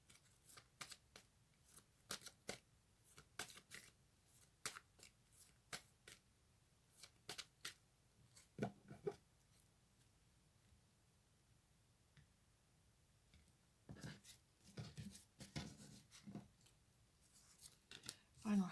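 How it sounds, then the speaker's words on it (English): Tarot cards being shuffled in soft, quick bursts of riffling and snapping, close and fairly quiet, separated by pauses and fairly even in rhythm. "I'm going to get one more house card for you."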